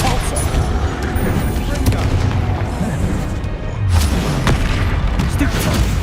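The Depulso spell cast during a Hogwarts Legacy battle, heard within continuous loud booming and crackling combat effects. Sharp blasts keep going through a dense, close wall of game noise.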